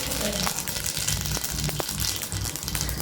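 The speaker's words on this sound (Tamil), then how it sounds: "கடுகு வெடித்ததும்" Mustard seeds splutter and pop in hot oil while tempering, with dense sizzling and scattered sharp crackles throughout.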